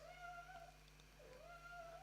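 A cat meows and whinges indoors, two drawn-out plaintive cries, faint and close, with no talking.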